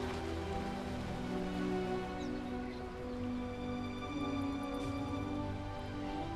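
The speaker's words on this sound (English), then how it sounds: "Behold the rain!" Steady rain in the Dota 2 video game, a continuous dense patter that stays even and moderately loud throughout, with no talk over it.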